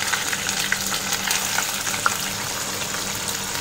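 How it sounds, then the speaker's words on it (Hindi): Paneer pieces fry in a kadai pan, a steady, even sizzle with soft crackling and a few faint pops throughout, with no voices. "इसमें हम पनीर को 2 मिनट फ्राई कर लेंगे।"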